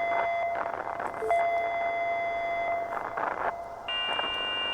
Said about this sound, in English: There's a bunch of alarms going off in the background.